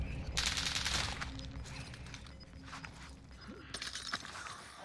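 Incoming gunfire strikes the player in Warzone, clattering bursts of shots and impact noises, moderately loud at first, then sporadic amid mechanical game sounds and another burst near the end.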